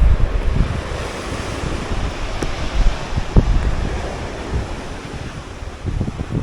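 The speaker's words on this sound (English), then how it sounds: "A little bit windy this little break" Strong wind buffets the microphone in a constant rumbling roar on a beach at Eype, Dorset, with surf washing in the background and a few sharp gusty thumps.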